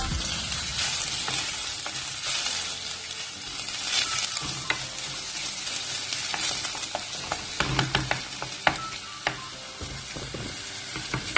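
Seafood curry is stirred in a pan with a steady close sizzle, while spoon scrapes and clinks come in bursts, thickest toward the end; no talking.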